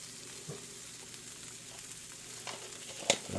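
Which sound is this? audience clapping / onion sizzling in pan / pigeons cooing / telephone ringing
onion sizzling in pan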